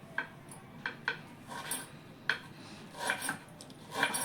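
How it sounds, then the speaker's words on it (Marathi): A knife slices an onion thinly for crispy kanda bhaji, making quiet, scratchy cuts and light board taps at irregular intervals, close up and faint. "तर आता मी हा चिरून घेते कांदा"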